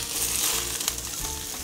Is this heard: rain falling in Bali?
no